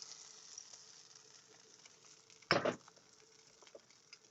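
Crepe batter dropping into a hot pan, a faint steady sizzle under quiet hiss, broken by one brief loud burst of spattering as the batter hits and spreads.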